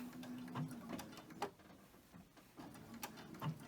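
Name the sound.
sewing machine sewing a pillowcase seam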